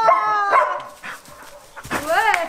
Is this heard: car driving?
no